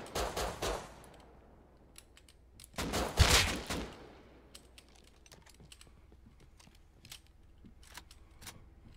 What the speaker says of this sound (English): he's shooting at me through the walls and stuff